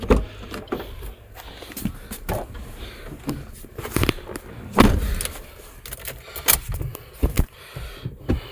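A car near a village in Dwarahat, with mechanical clicks, thumps and a door-like knock close by, irregular and fairly loud against quiet background.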